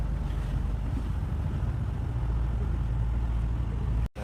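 A boat runs across open sea toward Bangaram Island in Lakshadweep, with a steady low engine drone, wind rushing over the microphone and water washing along the hull, cut off abruptly at the end.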